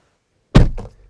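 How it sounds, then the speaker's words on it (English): The door of a Tesla Model 3 SR+ opens after its button is pressed, a single close, solid thunk followed by a softer secondary knock, with silence before it. "you press that button to open the door"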